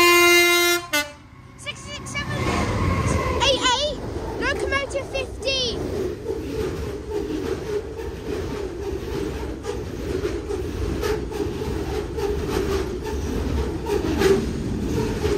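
Freight locomotive 66788 passes a level crossing at Collingham Station, blasting its horn in several loud tones before the heavy rumble and clatter of wagons rolling by close up, continuing steadily to the end.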